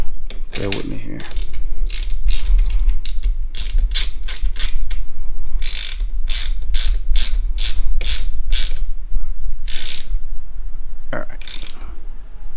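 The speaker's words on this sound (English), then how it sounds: "Put the wrench on there." Ratchet wrench tightening Yoshimura RS-9T exhaust bolts on a 2022 Honda Grom: a long run of loud, close ratcheting clicks in uneven bursts, with short pauses between strokes.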